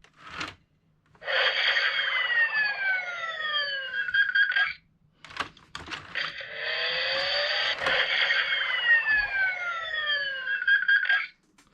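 Closing sound effect from a Superthings Kazoom Enigma Tower toy: two long electronic siren-like bursts with repeated falling sweeps, separated by a short gap with small handling clicks, close and fairly loud.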